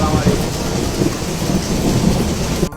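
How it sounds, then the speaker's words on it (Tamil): Heavy rain pours down steadily in hilly country, a loud, dense, continuous hiss of water close by with no talking over it. "அந்த பக்கம் மழை அடிச்சு பெஞ்சிக்கிட்டு இருக்கே."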